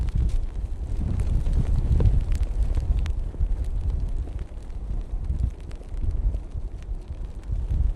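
Strong, gusty wind at an airport buffets the microphone with a continuous loud low rumble and roar, steady throughout with faint rattles mixed in.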